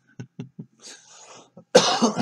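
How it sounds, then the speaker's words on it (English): A person gives several short, sharp coughs in a row, then a longer, louder harsh cough and throat clearing, close to the microphone with no talk over it. "excuse me. I don't mean to cough at you."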